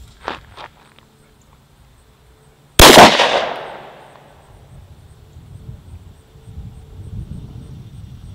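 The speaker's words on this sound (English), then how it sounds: "We got a Sig P226, Sig 115 grain practice ammo, sunny day." A single sharp, loud gunshot from a Sig P226 pistol firing 115 grain 9mm practice ammo outdoors on a sunny day, with a long decaying echo afterward; two faint soft knocks come before it.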